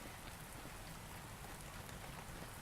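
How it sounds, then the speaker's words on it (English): Steady rain falls in a video game, a dense, even hiss of drops spread across the whole short stretch with no voices over it. "Here comes the rain again."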